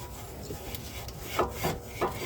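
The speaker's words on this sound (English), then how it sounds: "we usually can go back and forth with the rotor to make sure that there's no" Brake rotor on a Chevy Equinox turned back and forth by hand during a brake and rotor replacement, giving a few soft rubbing swishes in a quiet workshop, three clearer strokes near the end.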